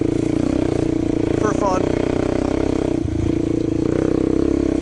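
A Suzuki LT-Z400 ATV engine drones loud and steady while riding sand dunes in southern Utah, with a rough, constant roar under someone speaking briefly.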